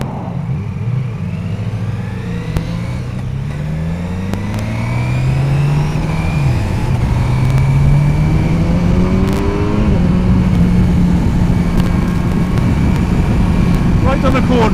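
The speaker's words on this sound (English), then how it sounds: "That was a silly place to overtake." A car on the road accelerating hard to overtake, its engine note climbing steadily and growing louder, heard from inside a vehicle with people talking over the drone.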